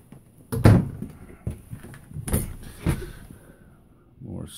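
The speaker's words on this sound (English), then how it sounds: "There's two pull-out drawers." Pull-out storage drawers in a camper slide open and shut, giving several sharp clunks and rattles spaced over a few seconds, close by with faint room noise between.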